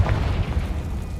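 The Confringo explosive spell from the Hogwarts Legacy video game lands as a deep, loud boom with a rumbling low-end tail that fades over about a second.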